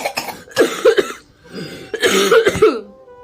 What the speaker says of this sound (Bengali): এত কাশি এত কাশি